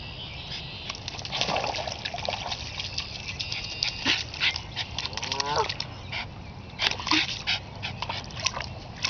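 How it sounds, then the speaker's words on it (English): A Cairn Terrier barks a few times at moderate distance by the water while geese honk and ducks call in the background, over steady outdoor noise. "What are you barking at?"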